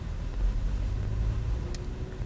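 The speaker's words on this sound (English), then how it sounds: "So, driving the Outlander GT V6." A 2014 Mitsubishi Outlander GT V6 on the move, heard as a steady low engine and road rumble from inside the car, even in level with no voices.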